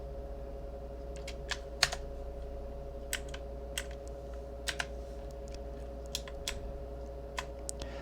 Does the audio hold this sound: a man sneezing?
no